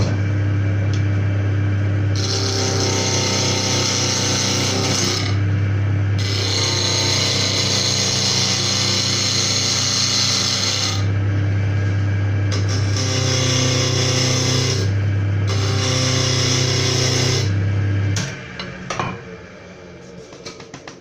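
A wood lathe spins a workpiece while a tool squares and rounds it, giving a loud steady hum with bursts of scraping cutting noise that start and stop several times before the machine winds down.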